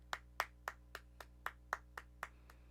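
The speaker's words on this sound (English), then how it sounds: "I want to give a round of applause to Governor Lilac." A sparse, evenly spaced series of about ten single claps, sharp and fairly close, with no voices, at an in-game event in Ultima Online.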